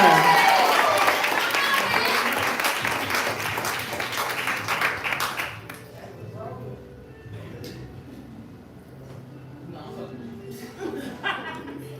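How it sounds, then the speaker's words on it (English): Audience clapping and cheering at a live poetry event, loud dense applause for about five seconds that quickly fades, followed by a quieter room with scattered chuckles and voices talking. "clap it up for the future"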